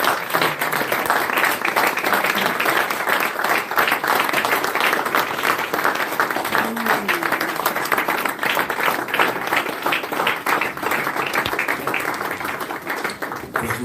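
A church congregation applauding and cheering in praise of Jesus, a steady wash of many hands clapping that holds loud and unbroken throughout.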